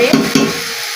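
Bitter greens frying and being stirred in a pan, with two quick scraping stirs over a loud, close sizzle that fades within a second; no voices.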